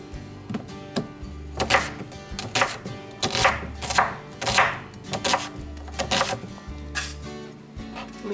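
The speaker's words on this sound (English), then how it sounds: "yeah, we're gonna chop an onion." A knife chopping an onion on a cutting board, quick rhythmic thuds in a steady series of about a dozen close, crisp strikes with brief pauses between bursts.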